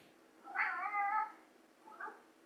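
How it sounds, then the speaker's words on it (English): A house cat gives a drawn-out, wavering meow indoors, close and clear, followed after a pause by a shorter, softer meow, with no talking over it. "Sorry, my cat is making noise."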